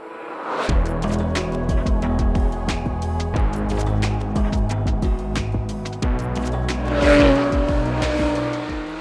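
A manual Porsche GT3 engine revs and shifts through gears, its rising tones punctuated by sharp tappety mechanical clicks, close and steady.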